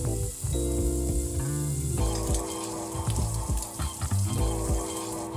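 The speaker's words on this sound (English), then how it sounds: "In a hot pan we add the diced bacon and we sear until golden and crisp." Diced bacon sears in a hot pan with a loud, crackling sizzle, broken by sharp spits and pan knocks as the pieces are moved about, no talking.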